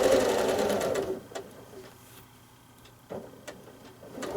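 A sewing machine runs fast and steady for about a second during free-motion quilting of a crack maze pattern, then stops, leaving faint, scattered clicks and taps from the quilt being shifted.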